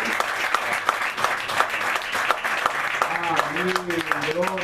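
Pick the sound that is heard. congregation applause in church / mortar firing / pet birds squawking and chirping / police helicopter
congregation applause in church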